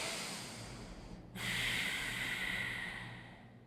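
One deep, intentional breath taken in a lizard hip-opening stretch during an active yoga flow, a close airy breath with a brief pause partway through, heard over a steady background hiss.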